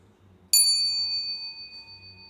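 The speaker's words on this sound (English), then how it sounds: "The bell sound" A single bell struck once, ringing out with a sharp attack and a long, clear, high tone that slowly decays over about two seconds, heard through a Zoom call with no voices.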